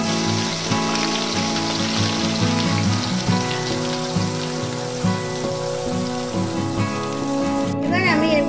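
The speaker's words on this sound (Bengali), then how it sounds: "এবার আমি ওই আলু সাঁতলানো তেলের মধ্যে দিয়ে দেবো পেঁয়াজ বাটা" Onion paste dropped into hot oil left from frying small potatoes, for a Bengali potato dum, giving a steady sizzle throughout, heard under prominent music.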